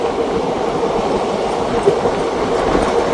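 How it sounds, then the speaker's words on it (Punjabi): Passenger train 54551 travels at speed on the Ambala–Bathinda line, heard from on board as a constant loud rumble with rhythmic wheel clatter and a brief knock. "ਕਾਫੀ ਅੱਛੀ ਸਪੀਡ ਨਾਲ ਹੈ ਟ੍ਰੇਨ ਆਪਣੀ ਚੱਲ ਰਹੀ ਹੈ ਜੀ"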